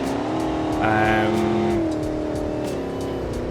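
The lowered Goliath truck in a BeamNG career game drives slowly with a steady, droning engine note that rises slightly and then settles, close and continuous, while someone talks over it.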